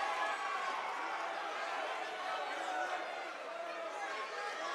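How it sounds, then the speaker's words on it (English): Crowd at an MMA fight at the Shrine Mosque in Springfield, Missouri roaring and cheering steadily throughout, with a commentator's voice talking over the din. "the crowd's going crazy here at the Shrine Mosque in Springfield, Missouri"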